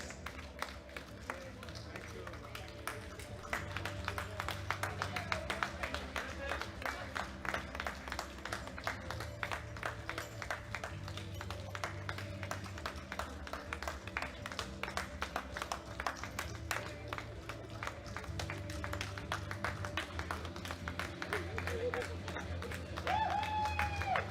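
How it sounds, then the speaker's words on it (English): Audience at the Women M1 63-69 kg World Classic Powerlifting Championships 2021 applauds as lifters leave the platform, steady dense clapping with crowd noise throughout, moderately distant. "give these ladies a round of applause as they leave the platform"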